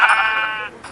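Sheep bleating in the video game Minecraft, a single loud, wavering bleat lasting most of a second, heard alone and up close with no talk.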